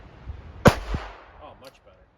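A single sharp crack from a .22 revolver fired single action at a shooting range, one loud close report followed by a brief fading echo.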